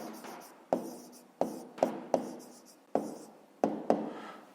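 A pen writes numbers and fractions on paper for a fifth-grade math exercise: close, quiet scratching broken into short strokes, with sharp taps as the pen lifts and lands roughly every half second.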